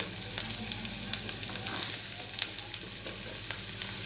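Garlic and onions crackle and sizzle in hot oil, up close and steady, with occasional scraping taps from stirring.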